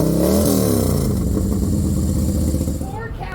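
A stage 2 Harley-Davidson motorcycle with a 2-into-1 exhaust revs hard and loud up close, a deep throbbing roar that holds steady and then eases off near the end.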